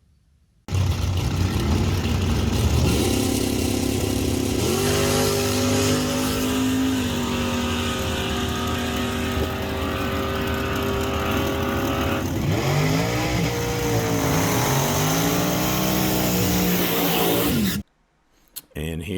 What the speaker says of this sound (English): Let's get the car down to the track, make some passes, look at some data